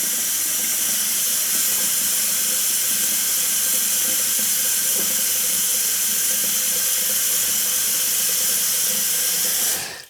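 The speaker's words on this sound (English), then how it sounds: "Sink's got some water in it" Tap water runs steadily into a sink, filling it for soaking a pure badger shaving brush; a constant close hissing rush of flowing water, alone and unbroken, cutting off abruptly at the end.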